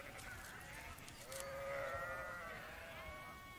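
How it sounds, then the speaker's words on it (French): Sheep and goats bleat faintly in the Middle Atlas mountains of Morocco, with a few wavering calls rising over a quiet outdoor background. "Le Moyen Atlas est peuplé de moutons et de chèvres"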